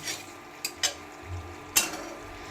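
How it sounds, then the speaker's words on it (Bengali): Spoon stirring okra curry in a pan, with a few sharp scraping clinks against the metal over a low, quiet sizzle. "খুব সুন্দর করে নাড়াচাড়া করে নিতে হবে"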